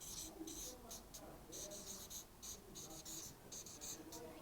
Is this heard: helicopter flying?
no